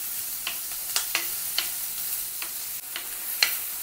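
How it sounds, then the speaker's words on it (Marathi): A large onion sautéing in a little hot oil in a pan for green egg masala, with a steady faint sizzle and soft, irregular scrapes and clinks of stirring, close by and without talk. "कांदा थोडा परतून घ्यायचा आणि मग बाकीच्या गोष्टी घालायच्या"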